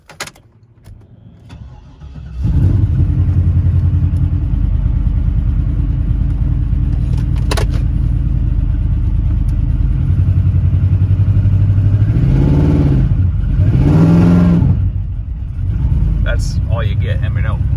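A heavily modified Chevrolet Trailblazer SS engine, with a dead cylinder, cranks and catches into a rough, loud idle, then is revved twice with rising and falling pitch, while a voice talks nearby.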